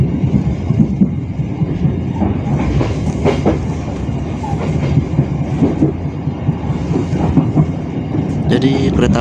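A Motis Utara passenger train from Cilegon to Pasar Senen rolls through Parung Panjang station, heard from on board as a loud, steady rumble with rhythmic wheel clatter and brief squeals near the end.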